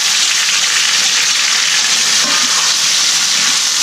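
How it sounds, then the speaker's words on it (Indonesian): Blended chili spice paste sizzles loudly in hot oil while frying for a duck dish, a steady dense hiss with no break and no talk. "Nah, kita goreng dulu."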